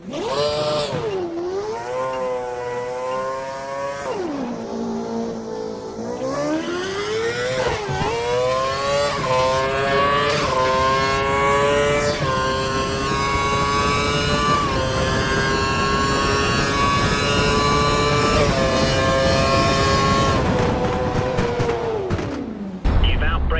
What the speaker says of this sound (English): Head down the track accelerating past 257 kph, then brake so that you come to a complete stop in the designated area